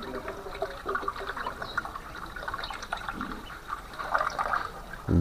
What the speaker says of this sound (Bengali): এখনো টিপ টিপ করে পানি পড়তেছে এই পাশ দিয়ে